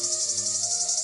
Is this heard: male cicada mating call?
yes